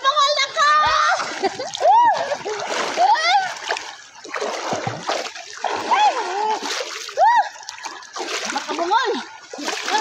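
People swimming in a deep river, making repeated bursts of splashing close by amid excited chatter and shouting from children and other voices.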